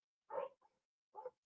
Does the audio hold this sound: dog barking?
yes